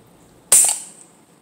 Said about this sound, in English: That's where we got to do some precision shooting.